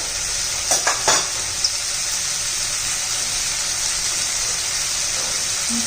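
Vegetables for a fresh pea veg pulao hiss and sizzle steadily in a hot pan as spoonfuls of coriander powder and garam masala go in, with a few brief clinks of the spoon near the start.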